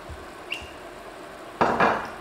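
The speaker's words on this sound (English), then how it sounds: "We're gonna go ahead and pour some of this brandy in." Brandy poured into a hot cast iron pan while cooking steak: after a few faint clinks, a sudden loud hiss and sizzle bursts up and fades slightly, in two quick surges.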